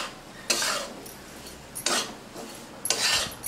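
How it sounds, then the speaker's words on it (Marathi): Wheat flour roasts in ghee while a spoon scrapes and stirs it around the pan in three distinct strokes, each a soft rasping sweep over a low, quiet sizzle. "त्याच्यामध्ये आहे ना पाव वाटी तूप घालू. याला 5-6 मिनिटं भाजून घेऊ."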